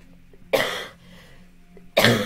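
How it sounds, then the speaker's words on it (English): Two sharp, close coughs from a person, separated by about a second and a half of near-quiet. "Sorry about me coughing all the time."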